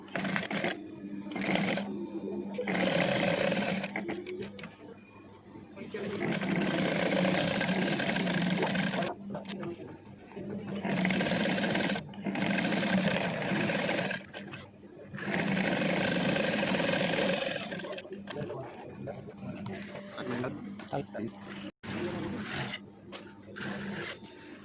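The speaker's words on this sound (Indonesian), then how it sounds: "Dijahit keliling sampai semuanya tertutup." A sewing machine stitches around the lining of a folder-style tote bag, whirring in long runs broken by short pauses, with a voice talking quietly underneath.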